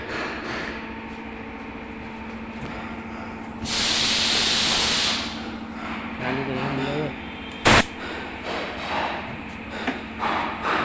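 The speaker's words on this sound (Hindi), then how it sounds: "ये जो गन स्प्रे गन होती है, इसके ट्रिगर पूरा ही दबाना है, हल्का सा छोड़ना है।" A paint spray gun fires a loud, steady hissing burst lasting over a second, then falls quiet while someone talks, followed by a sharp, short pop.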